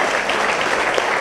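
Steady, dense applause from an audience at a celebration honouring a cycling world champion, a continuous wash of clapping with no voices over it.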